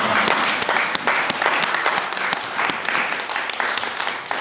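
A church congregation at a Christmas service applauds continuously, dense steady clapping filling the room at close range without a break.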